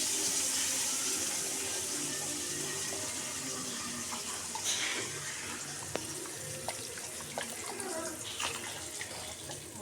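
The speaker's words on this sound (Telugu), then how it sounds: "వాటర్ యాడ్ చేయండి." Water poured into a cooking pot while making rasam, a steady running, splashing stream that carries on through the whole stretch at moderate level, with faint kitchen clatter and no talk.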